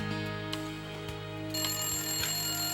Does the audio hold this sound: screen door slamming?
no